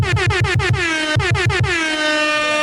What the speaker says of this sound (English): I got the air horn ready